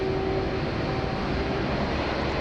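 Boeing 767 with CF6 engines taxiing at Sydney Airport, a steady broadband jet roar carrying a faint whining tone, continuous and fairly loud with no talk.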